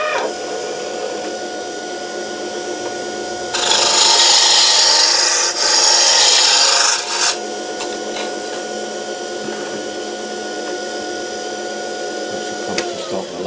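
Calipers press against spinning wood on a woodturning lathe, a harsh scraping rasp of a few seconds over the lathe's steady motor whine.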